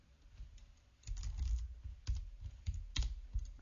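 Keys clatter on a computer keyboard while data goes into a Calc spreadsheet, with bursts of rapid close typing separated by short pauses, growing busier after the first second.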